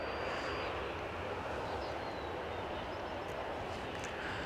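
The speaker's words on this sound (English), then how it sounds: "We do have an aircraft on final approach as well, I see." An aircraft on final approach at Edinburgh Airport gives a steady, broad jet roar, fairly distant and continuous, heard alone for a few seconds.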